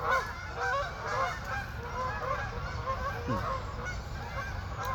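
A flock of ducks keeps up steady nasal honking, repeated calls overlapping one another throughout with no talking.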